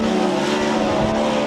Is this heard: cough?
no